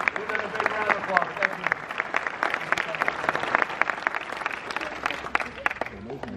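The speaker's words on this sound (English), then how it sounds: "Give them a big round of applause." Audience applause at a war reenactment museum event, a dense burst of many hands clapping steadily throughout, with some crowd voices mixed in.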